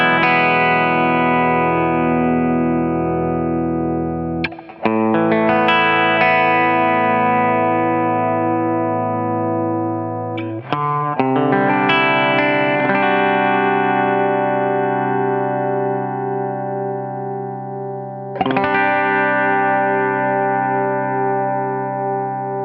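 Electric guitar through a Bearfoot FX compressor pedal, clean and even, with a few chords struck and left to ring out smoothly, each sustained for several seconds, played alone without talk.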